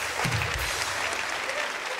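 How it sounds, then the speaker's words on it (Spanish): Studio audience applause on a Colombian TV comedy talk show, a short burst of dense clapping with a few louder thumps near the start. "Un aplauso para Gabriela."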